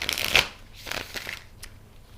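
Tarot cards riffle-shuffled close by in two quick bursts, the first louder with a crisp papery flutter, then softer handling rustles trailing off.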